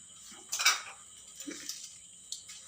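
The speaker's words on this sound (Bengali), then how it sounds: "ডিম ফাটালাম, নুন দিয়েছি" An egg for a chicken and egg roll is cracked against a bowl edge: one sharp, close tap, then a few faint clinks and soft knocks in a quiet kitchen.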